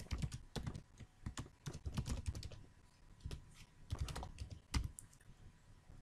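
Computer keyboard tapped in quick, uneven bursts of clicking keystrokes while an email address is typed, close and clear with no voices.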